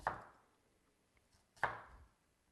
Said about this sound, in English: I chop this so that it's easy to get into your mouth instead of lots of strings